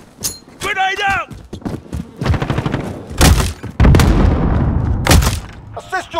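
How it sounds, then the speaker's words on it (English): Grenade and gunfire in Call of Duty Modern Warfare multiplayer, loud close booms and bursts of shots in heavy combat, broken by short radio-style voice callouts between them. "Throwing grenade!"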